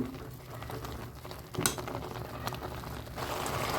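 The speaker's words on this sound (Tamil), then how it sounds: "நல்லா அப்படியே கிண்டி விட்டுக்கிட்டே இருங்க" Carrot halwa simmers in milk in a pan while a ladle stirs it, producing a steady bubbling hiss with soft scraping and an occasional metallic knock, close up and without speech.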